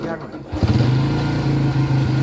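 A small motorcycle engine with a 53 mm piston runs close by, a steady buzzing idle that picks up slightly after a brief pause, with a person talking over it.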